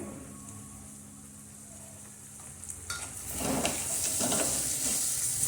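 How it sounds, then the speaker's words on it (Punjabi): Tomatoes and green chilies tip into a hot tempering for a green bean pod curry. A quiet stretch breaks into a loud, steady sizzle with stirring that carries on to the end, and no one speaks. "ਟਮਾਟਰ ਪਾ ਕੇ ਅਸੀਂ 2 ਮਿੰਟ ਵਾਸਤੇ ਇਹਨੂੰ ਪਕਾਵਾਂਗੇ ਟਮਾਟਰ ਸੌਫਟ ਹੋ ਜਾਣਗੇ"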